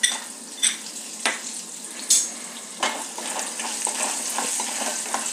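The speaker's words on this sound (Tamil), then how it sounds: "இந்த சுண்டைக்காயை நம்ம வறுத்துக்கலாம்." Sundakkai (turkey berries) frying in hot oil in a pan, a continuous crackling sizzle punctuated by sharp stirring scrapes and clinks, close and alone.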